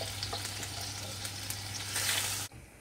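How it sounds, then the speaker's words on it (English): A tin of coconut milk goes into a sizzling pan of fish curry, a continuous close hiss and fry that swells briefly before cutting off abruptly near the end. "Now put in a tin of coconut milk"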